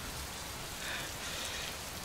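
Dense, steady rain pours down, a continuous hiss of heavy drops drumming on surfaces with no talking.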